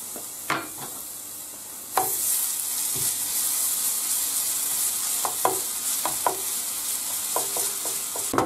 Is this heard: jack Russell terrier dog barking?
no